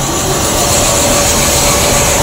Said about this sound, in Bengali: এই যে ট্রেনটা দাঁড়িয়ে রয়েছে